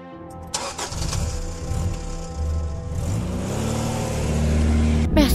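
A police car engine cranks and catches, then revs and pulls away, a loud, close mid-pitched motor rising steadily over about five seconds with no voices.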